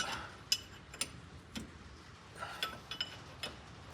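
Wrench ratcheting on a front differential bolt, a series of sharp metallic ticks and clicks spaced irregularly about half a second apart, close but quiet with no talk.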